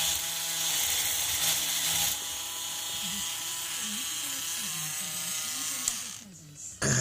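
An electric drill bores into hard plastic for an AC-powered AM transmitter build, a buzzing whine that wavers and strains as the bit skips about, with someone talking over it and the motor stopping near the end.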